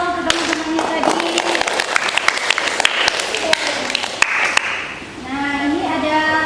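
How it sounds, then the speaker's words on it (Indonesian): Group clapping for friends in a school sociodrama counseling session, scattered sharp claps over ongoing talk, with a voice speaking at the end. "Tepuk tangan dong untuk teman-temannya tadi"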